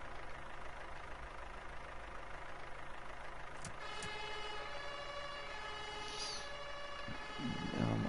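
Fire truck in the Feuerwehr Simulator game driving back to the station, a steady engine drone under a wailing siren that rises and falls, with a brief horn-like burst at the end.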